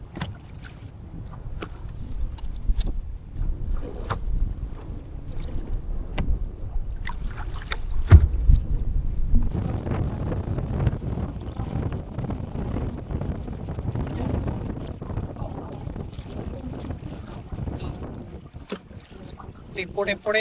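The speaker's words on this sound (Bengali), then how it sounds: "আর প্রচন্ড হাওয়া চলছে, ঢেউ চলছে সমানে।" Strong wind buffets a small boat on open water as waves slap against the hull, a steady gusty rumble with sharp knocks and splashes throughout, and a voice speaks briefly.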